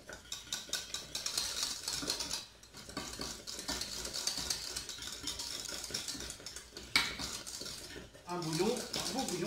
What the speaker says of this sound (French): On fouette bien.